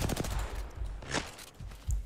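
Kraber sniper rifle firing in a video game: rapid, loud gunfire reports and booming impacts packed together in a dense burst of combat noise, with no voices.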